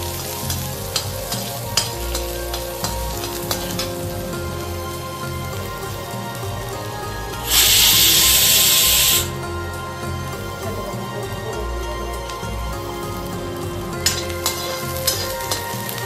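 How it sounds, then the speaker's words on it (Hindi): Onion and green chili frying in hot oil crackle and sizzle steadily throughout, with light stirring scrapes and a brief, much louder burst of hissing in the middle. "अब इसमें हम डाल देते हैं प्याज। प्याज और ये हरी मिर्च, इसको भी थोड़ा सा फ्राई करके"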